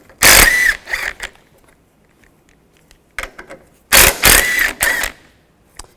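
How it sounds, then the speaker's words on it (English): A ratchet with a 13mm socket works on the strut mount nuts of a 2005-2010 Chevy Cobalt, with two loud bursts of rapid close clicking and rasping separated by quiet pauses. "Using a 13mm socket, we want to take these nuts off up top."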